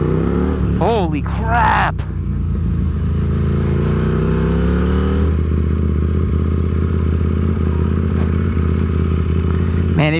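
A KTM RC8C race-bred motorcycle engine revs hard and close, with quick throttle blips early on before settling into a loud, steady, sustained roar; a rider exclaims briefly over it.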